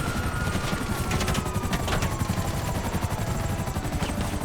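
Rapid bursts of gunfire from a helicopter in the video game GTA 5 rattle loudly and continuously over a dense mechanical rotor drone.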